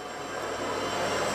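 A small model helicopter flying indoors in a hall, a continuous whirring motor hum with a high steady whine, fairly faint and slowly building, no voices.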